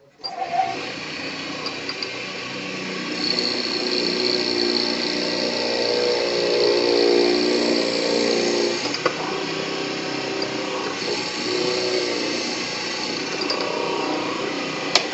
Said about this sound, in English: So we're going to drill that out to that line.